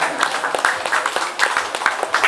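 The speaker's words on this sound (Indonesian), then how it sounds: "Oke, berikan tepuk tangan." Applause at a fifth-anniversary event for an online media company, a moderate crowd clapping in uneven bursts, with individual claps standing out over a thinner background.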